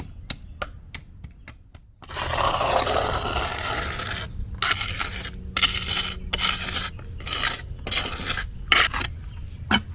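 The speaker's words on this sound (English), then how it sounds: "I actually really like the way this is curving out by using the end of this trowel here" A trowel scrapes and smooths leveled ground beside hurricane sandbags, giving a close, gritty rasp in long strokes broken by brief pauses, after a few sharp taps at the start.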